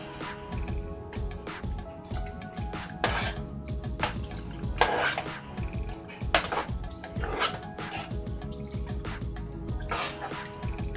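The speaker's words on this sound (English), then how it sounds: "let's stir it up to see where we're at" Ragu sauce being stirred into penne pasta in a pot for a baked cheesy casserole with ground beef and turkey, giving repeated clanks of a utensil against the pot over a wet, squelching mix, fairly close and steady with no talk.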